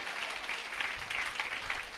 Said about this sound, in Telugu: కొట్టాలి గట్టిగా చప్పట్లు.